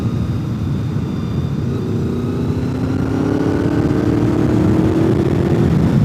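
A motorcycle engine, on a bike with about 56,000 miles, runs steadily and close, with a low rumbling drone and a slowly rising pitch as it revs, no talking over it.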